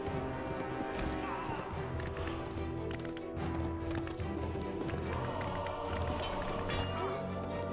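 Horse hooves galloping in Lord of the Rings Online, a steady rhythmic clip-clop under game music and ambient effects, with a voice talking over the ride.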